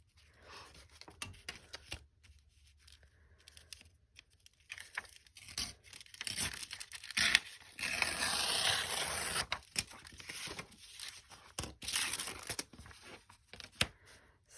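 Coffee-dyed paper being torn by hand for Halloween binder journal ephemera, close up, with several irregular ripping bursts and crinkling between quiet pauses, the longest rip stretching through the middle.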